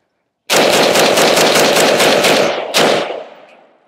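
Primary Weapons MK111 Mod 2 rifle fired in a fast, steady string of close, very loud shots, about a dozen in quick succession, then a last shot after a short pause and a fading echo.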